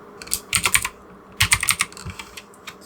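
Quick bursts of clicky keystrokes on a computer keyboard while writing Roll20 macros, two clustered flurries of close, crisp taps with a short pause between them.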